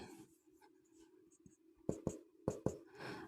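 Marker or chalk writing on a board during a chemistry lesson gives soft scratching strokes, then a few sharper taps and squeaks near the end, close and fairly quiet with no talk.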